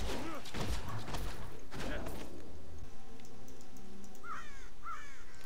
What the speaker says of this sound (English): So many birds flew out of this ground.